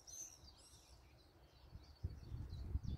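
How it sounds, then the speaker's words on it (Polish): Small birds chirp and tweet faintly in the distance on an early weekday morning around seven, with soft high calls over a quiet background and a low rumble of handling noise near the end. "Tylko słychać ćwierkanie ptaków."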